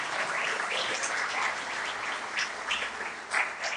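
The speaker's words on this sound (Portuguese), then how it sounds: "com as suas mãos aplauda a Ele" A church congregation applauding during a worship service, dense continuous clapping from many hands at a steady level, with a few brighter cheers or whistles near the end.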